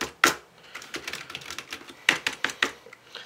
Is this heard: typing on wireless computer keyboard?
yes